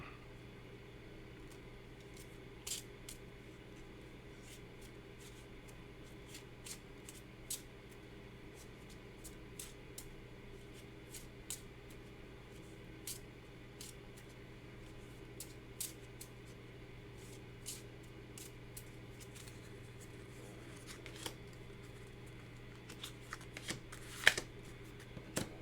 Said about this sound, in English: just shuffling